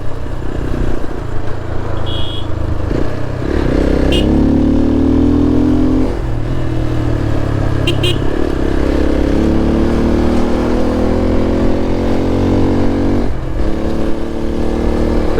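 A motorcycle with a burnt, modified exhaust revs steadily on a busy mountain road near Kullu, with sharp pops and crackles breaking through the engine drone now and then.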